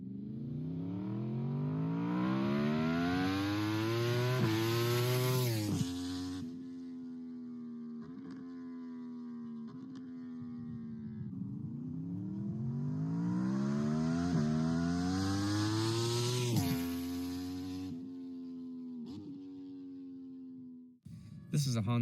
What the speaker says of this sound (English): Well, this is a Yamaha R1.